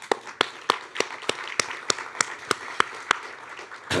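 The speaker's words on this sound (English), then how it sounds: "And I'm going to start with that round of applause for you all." Awards ceremony audience applause that has thinned to a few sharp, evenly spaced claps, roughly three per second, ringing out over a quiet room.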